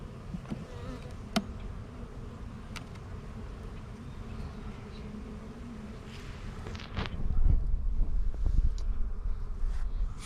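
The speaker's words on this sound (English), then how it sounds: "I see young, still fuzzy wuzzy nurse bees." Honey bees buzz continuously around an open hive during a first spring inspection, a steady nearby drone with occasional louder passes by single bees and some wind rumble toward the end.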